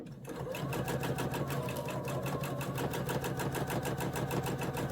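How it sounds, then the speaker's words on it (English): A sewing machine runs steadily at a close distance, its rapid, even needle stroke stitching an initial lock thread on fabric at the start of a seam, with no talk over it. "this machine is going to do that initial lock thread"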